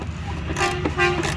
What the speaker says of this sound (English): Oh, now he's honking.